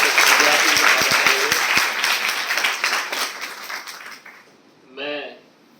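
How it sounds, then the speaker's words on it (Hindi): Audience applause at a Guru Purnima gathering, strong clapping that gradually fades out, followed by a brief moment of a voice speaking after it dies down. "एक बार जोरदार तालियों से"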